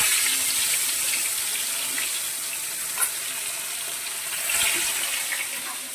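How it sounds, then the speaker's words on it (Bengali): Rui fish fry in hot oil in a wok, giving a steady, loud hissing sizzle throughout with a few soft pops and no talk. "এবার আমি মাছগুলোকে ভেজে নেব।"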